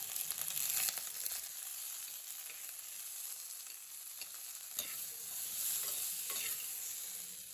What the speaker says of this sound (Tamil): சின்ன வெங்காயம் சேர்த்துட்டு கூடவே ஒரு பெரிய தக்காளி சேர்த்துட்டு நல்லா வதக்கி விட்டுடலாம்.